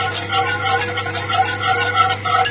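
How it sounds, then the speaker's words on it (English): A whisk clicks and scrapes steadily in a pan, working butter into a lamb shank sauce over heat in a quick, even rhythm, close and moderately loud. "just keep whisking it till the butter's all emulsified"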